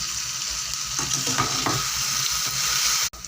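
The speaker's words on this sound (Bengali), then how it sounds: "প্রথমে পেঁয়াজ আর টমেটো ভালো করে ভেজে নিচ্ছি।" Onion and tomato fry in a pan for a chicken momo filling, a continuous close sizzle with brief stirring scrapes partway through, and no one speaking.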